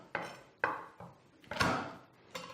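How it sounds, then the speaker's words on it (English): Garlic cloves are bashed on a kitchen board, four sharp, close knocks spaced irregularly, each ringing briefly, with no voices. "Now I always like bashing my garlic because this just makes it easy for you to release the skin"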